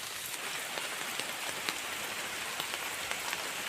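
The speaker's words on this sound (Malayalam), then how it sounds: "കുളത്തിൻ്റെ അവിടെ എത്തിയപ്പോൾ മഴ പെയ്തുകൊണ്ടിരിക്കുന്നുണ്ട്." Steady rain falls near a pond, a dense continuous hiss of drops pattering on surfaces with occasional closer individual splats, no voices.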